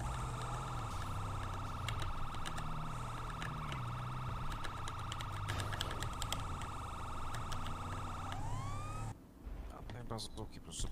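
Loud wailing police sirens in GTA V with steady electronic tones fill the scene, continuous over rumbling engine noise, ending with a brief shift to different siren sweeps.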